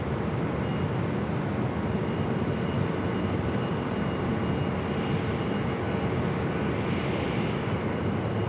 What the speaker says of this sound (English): Delta A321 Neo about to touch down to runway 8.